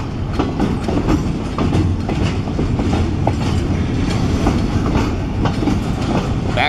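A train rolls steadily past on the rails, with continuous rumbling and a scatter of clickety-clack wheel clicks, fairly close and loud throughout.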